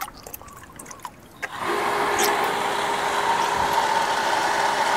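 A freshly started water pump at a catfish-raising site kicks in after a quiet moment, its steady motor hum joined at once by a constant hissing rush of weak flowing water that holds evenly to the end.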